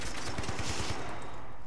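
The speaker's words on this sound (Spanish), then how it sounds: "Tiros por aquí." Gunfire in Battlefield 3, a rapid burst of several shots fired in quick succession, loud and close, with no talking over it.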